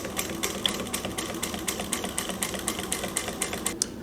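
A Juki DNU-1541S industrial walking-foot sewing machine stitching material such as leather, a steady rapid mechanical clatter of evenly spaced needle strokes that runs throughout and stops near the end.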